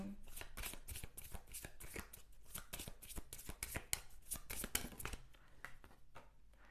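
Tarot cards shuffled by hand for a reading, a steady run of crisp riffling and flicking bursts close to the listener, with a brief pause before the shuffling resumes near the end.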